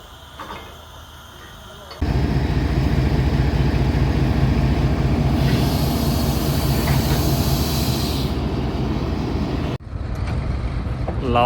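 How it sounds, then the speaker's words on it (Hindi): A freight train rolls into Lawa Sardargarh railway station, a loud sustained rumble and hiss starting abruptly after a quieter lead-in, with a brief higher hiss midway before cutting to a softer tail. "लावा सरदारगढ़ रेलवे स्टेशन पर मालगाड़ी आ चुकी है।"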